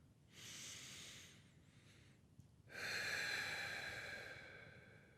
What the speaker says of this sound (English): And as I breathe out